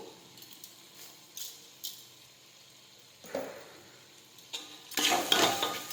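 Sukhi bhaji being stirred and sautéed in a pan, with faint sizzling under scattered scrapes and taps of a spoon, swelling into a louder burst of frying and scraping near the end.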